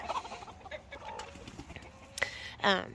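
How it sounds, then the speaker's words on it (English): Muffin, a pet rooster in a backyard yard, gives short clucks and a brief crowing burst near the end, fairly close and moderately loud over faint outdoor background. "that's Muffin. He's a rooster."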